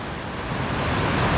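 Sea surf at Surin beach in Phuket, a steady broad wash of breaking waves heard close and loud, building slightly toward the end, with wind noise on the microphone and no voices.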